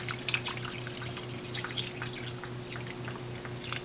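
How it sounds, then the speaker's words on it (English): Hot water poured into a homemade vibrating wet tumbler to top it off, a close, bubbling trickle with scattered drips and splashes over a low steady hum. "I'll go ahead and fill it all the way up the rest of the way with hot water"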